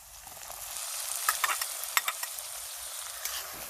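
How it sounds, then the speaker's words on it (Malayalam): Tomato sautéing in a pan for pepper fried chicken, a soft steady sizzle with scattered scraping clicks from the stirring spoon, close up and with no talking. "ഇതിൻ്റെ പച്ചമണം മാറുന്ന വരെ നമുക്ക് ഇത് വഴറ്റാം. അടുത്തതായി നമുക്ക് തക്കാളി ഇതിലേക്ക് ഇടാം."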